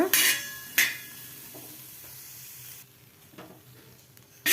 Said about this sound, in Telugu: చూసారు కదా ఇలా కలుపుకుంటూ ఫ్రై చేసుకోవాలి